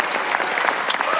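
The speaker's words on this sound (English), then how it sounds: "Let's give one more renegade of Planetcomicon applause for our panelists" An audience at a Planetcomicon Justice League panel in Kansas City breaks into steady applause, a dense wash of hand claps filling a large convention hall at moderate loudness.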